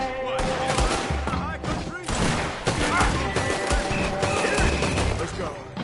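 Gunfire rattles through a Red Dead Redemption 2 shootout, with dense overlapping shots and booming reports, loud and continuous, while voices speak over the chaos.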